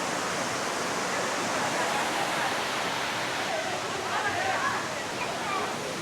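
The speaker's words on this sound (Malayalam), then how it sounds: "ആ വെള്ളം ഒഴുകി തോട്ടിലൂടെ നിന്ന് പോവുകയാണ്" Stream water at Tiger Falls pours down small rocky steps into a channel after rain, a dense, steady rushing roar heard close by under a person talking.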